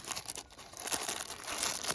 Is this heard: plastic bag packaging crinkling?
yes